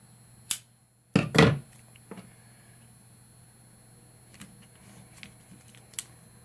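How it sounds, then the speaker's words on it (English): Scissors snip through a piece of card for a handmade Mother's Day card, in a quick cluster of close, crisp cuts followed by faint handling clicks. "let me cut that piece out."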